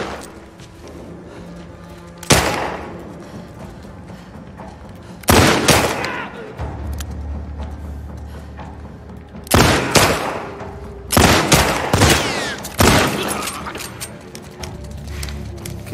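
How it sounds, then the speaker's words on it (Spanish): Gunfire in the video game The Last of Us Part II, including a headshot: several loud, sharp shots in separate bursts, with echoing tails and a low rumble between them. "Qué lindo ese disparo en la cabeza."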